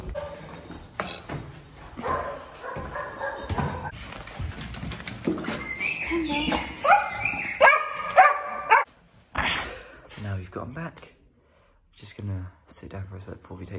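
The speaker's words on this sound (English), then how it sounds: "Can hear the dog." A dog barks a few times amid loud, overlapping conversation and clatter; the barks are intermittent and partly buried under the voices.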